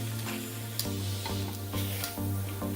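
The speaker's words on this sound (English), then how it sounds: "So our tomatoes, onion, and garlic have been roasting on high heat for about 10 minutes now." Tomatoes, onion and garlic sizzle steadily as they roast on high heat in a pan, a close, constant frying crackle with occasional soft stirring scrapes and no talking.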